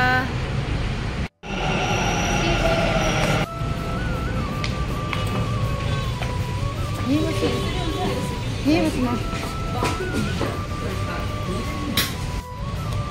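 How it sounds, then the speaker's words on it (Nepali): A Bangalore metro train pulls into the MG Road station with a loud rumbling roar and rising, wavering wheel and motor whines, and a brief dropout near the start. Background voices sound faintly in the busy station. "देखना अभी हम मेट्रो स्टेशन पहुँच गए हैं, बस 3 मिनट वेट करना पड़ेगा, उसके बाद हमारा मेट्रो आ जाएगा।"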